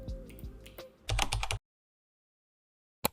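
Typing on a Figma-branded keyboard, with a short run of crisp keystrokes in the first second and a half, then silence and a couple of closing clicks at the end.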